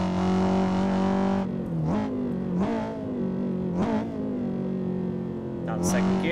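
A Honda S2000 engine in a racing game, right-hand drive on a touge road, holds a steady drone, then gives several quick rising throttle blips as it heel-toe downshifts, close and fairly loud.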